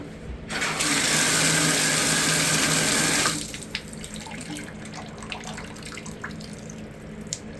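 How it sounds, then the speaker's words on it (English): Water gushes loudly from a tap into a bathtub with a clogged, slow drain for a few seconds, then shuts off, leaving quieter trickling and faint clinks. "Okay, run the water."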